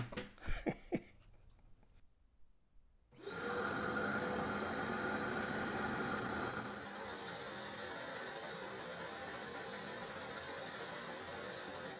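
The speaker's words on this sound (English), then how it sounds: "This time we'll actually turn the vacuum on." Shop vacuum on a drill press dust collection hose switches on after a few clicks and a quiet pause, then roars at a steady loud level before settling to a slightly lower continuous whoosh.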